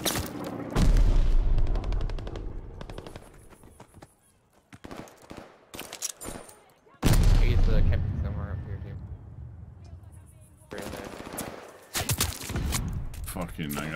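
Heavy cannon blasts boom out in a war video game, two big explosive bursts with crackling gunfire in between, loud and close, with voices talking over the action.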